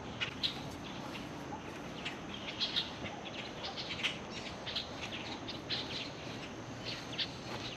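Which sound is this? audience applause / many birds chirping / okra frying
many birds chirping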